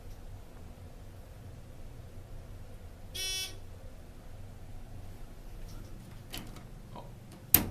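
A ThyssenKrupp hydraulic elevator at the Bellagio in Las Vegas gives one short, loud buzz amid a quiet room hum, followed later by a couple of faint clicks and a sharp tap.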